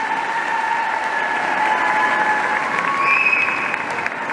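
Steady, dense applause from an audience at an International Women's Day ceremony in Mauritius, following a speech by the Deputy Prime Minister, holding an even level throughout with a faint crowd murmur beneath.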